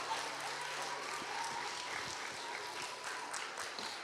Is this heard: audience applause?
yes